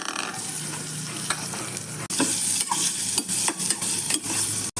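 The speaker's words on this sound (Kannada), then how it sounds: "ಈಗ ಕಟ್ ಮಾಡ್ಕೊಂಡಿರೋ ಈರುಳ್ಳಿ ಹಾಕಿ ಹುರ್ಕೊಳ್ಳೋಣ." Chopped onion tossed into a pan with reddening chana dal and dried chillies for a chutney, a loud close sizzle that swells as the onion goes in, with stirring scrapes and clinks throughout.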